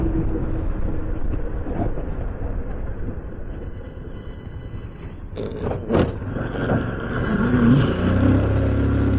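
Heavy traffic on a service lane hums with a low continuous rumble of engines, closer vehicles swelling past and a few sharp clatters near the end, with no talk.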